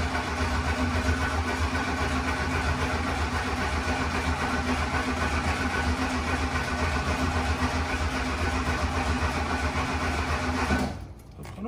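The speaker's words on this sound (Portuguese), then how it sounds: "Dá um toquinho no acelerador." A car's engine runs steadily on a cold day, a continuous loud mechanical drone that cuts off abruptly near the end.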